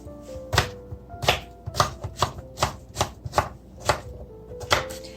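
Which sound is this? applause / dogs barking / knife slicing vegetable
knife slicing vegetable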